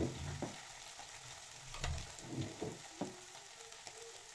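Tomato masala fries in a pan, a soft steady sizzle with several low knocks and clicks of stirring against the pan at irregular intervals, close and fairly quiet.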